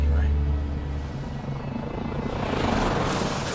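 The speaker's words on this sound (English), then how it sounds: "Helicopters." Helicopter rotor thumping and engine whine from a video game trailer, loud and close at first, then easing slightly, with voices talking over it.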